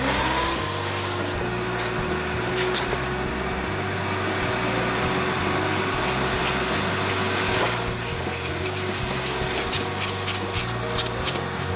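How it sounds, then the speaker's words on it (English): A vacuum cleaner motor runs steadily with a constant whine and low rumble, close by, for the whole stretch, vacuuming a car floor mat. "follow with another quick vacuum"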